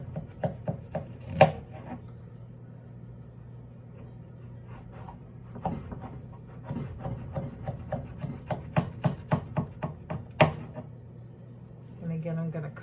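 A knife slicing an eggplant on a board, giving a run of short crisp cutting taps in bursts with pauses between them, close and moderately quiet, while a person talks intermittently.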